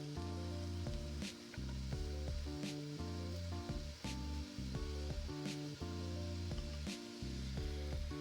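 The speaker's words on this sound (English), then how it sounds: "You hear that sizzle." Onions sizzle steadily in a hot pan, a continuous crackling hiss, with a rhythmic music bed playing throughout.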